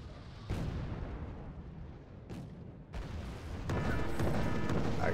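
Artillery fire in the video game Wargame: AirLand Battle, several heavy booming impacts at irregular intervals, the later ones rolling into a sustained rumbling barrage.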